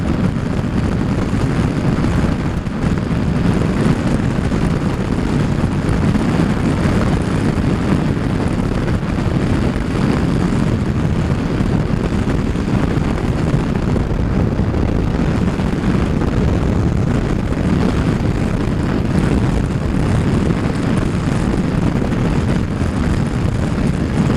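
Loud, constant wind buffeting the microphone during a ride through the Peak District, a dense roaring rush that fills the whole stretch with no let-up and no talk.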